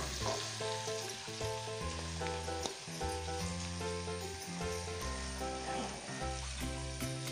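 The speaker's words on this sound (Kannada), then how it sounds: "ಕಟ್ ಮಾಡಿಟ್ಟು ಈರುಳ್ಳಿ ಹಾಕ್ತಿದ್ದೆ." Chopped onions frying in hot coconut oil for pav bhaji give a steady sizzle throughout, partly masked by loud background music with a heavy bassline.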